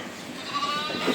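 A goat's bleat rises briefly near the end over quiet outdoor background noise, a single short call close by.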